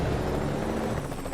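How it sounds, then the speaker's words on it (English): A helicopter in American Truck Simulator gives a steady low beating drone, heard continuously over the constant rumble of a truck engine. "that's a helicopter up ahead"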